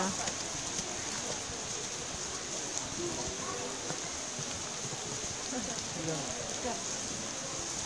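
Steady rain pattering on a surface, a dense continuous hiss with scattered drips, close and moderately loud.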